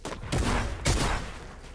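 Two bursts of gunfire from a weapon in the video game Fortnite, each a loud broadband crack with a sustained rattling tail, close and dense with no talk over them.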